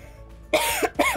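Two quick, close coughs in a row, sharp and harsh, with a short pause between them and near silence before.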